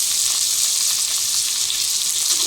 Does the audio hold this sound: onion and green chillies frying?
yes